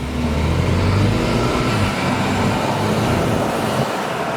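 A BMW car drives along the road, its engine drone blending with steady tire and road noise, loud and close throughout with no talking.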